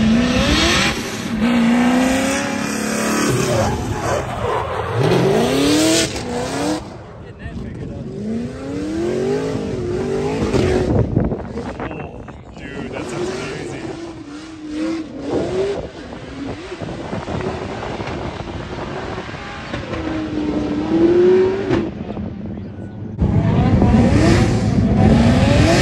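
A Formula Drift car drifts at Hallett, its engine surging and warbling through repeated rises and falls, with tire squeal and heavy wind buffeting over the microphone, loud and close throughout.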